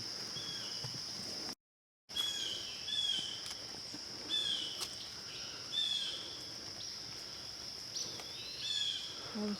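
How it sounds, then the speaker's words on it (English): Birds call and chirp intermittently in an Ohio state nature preserve, with short bright whistled notes repeating over a faint insect-like hiss, at moderate distance, with a brief dropout early on. "We're hearing lots of birds all of a sudden."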